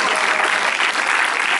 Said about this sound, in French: Ils sont venus en tout cas pour recueillir vos applaudissements, j'espère nourris.